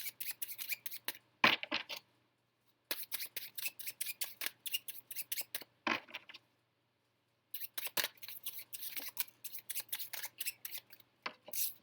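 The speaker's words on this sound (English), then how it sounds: "Let's get a couple shuffles first." Cards are shuffled in several quick riffling bursts, each a rapid flutter of crisp flicks, separated by short pauses of silence.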